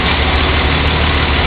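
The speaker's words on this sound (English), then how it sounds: "here I am adjusting the valves with the engine running" A 1948–53 Dodge truck's flathead six idles during a valve adjustment, giving a loud, close, steady low rumble with no break.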